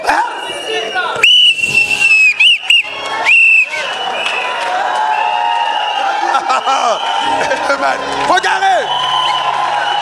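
Several sharp, shrill whistle blasts, a few short and one longer, sounding over a noisy crowd with talking and cheering in the background.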